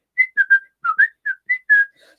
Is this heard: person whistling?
yes